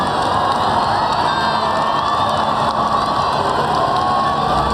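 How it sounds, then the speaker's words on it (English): A large outdoor crowd at the Platinum Jubilee Trooping the Colour roars and cheers for the Queen on the palace balcony, a loud, dense, continuous wall of cheering with high shouts mixed in. "The Queen appears on the balcony to receive a salute to roars of the crowd."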